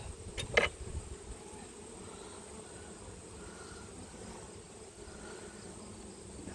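Honey bees drone at an open hive outdoors, a faint, steady buzzing hum, with a brief louder knock near the start.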